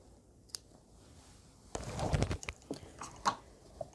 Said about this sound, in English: I'm ready to cut the buttonhole.